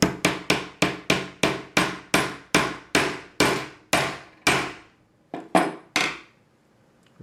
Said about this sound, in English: I should be able to just seat that in with a bit of gentle hammering